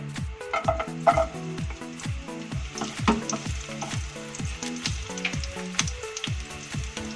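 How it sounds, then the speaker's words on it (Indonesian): Shallots sautéing in hot oil in a frying pan, a soft continuous sizzle under a regular, repeated scrape of the spatula, stirring steadily at moderate distance. "Langsung saja kita tumis bawangnya."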